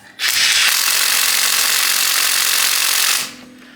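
A Parkside Performance PDSSAP 20 B2 cordless impact driver hammers a nut tight in one sustained, loud, rattling burst of about three seconds before stopping abruptly.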